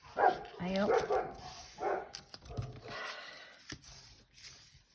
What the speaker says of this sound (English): that's our dogs.